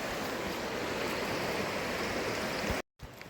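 Wading through a cold stream crossing in state game lands gives steady, loud, close water rushing and splashing that runs continuously, cuts off briefly and then returns more quietly.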